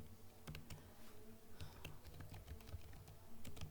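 Code being typed on a computer keyboard for a CS301 assignment, heard as quiet, close, irregular key clicks and taps in a steady run over a low background hum, with no talk.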